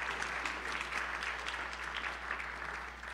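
Church congregation applauding at a service, a sustained wash of clapping from a crowd, moderately distant and fading slightly toward the end, with no talking over it.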